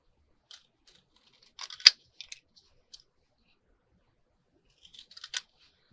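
Scissors cut chipboard into small tiles at close range, a few quiet crisp snips and clicks in two brief clusters separated by silence.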